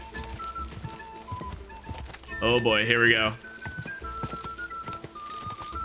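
Galloping horse hooves in Kingdom Come Deliverance 2, a steady clip-clop rhythm running under excited talk and game music, with a brief louder burst in the middle.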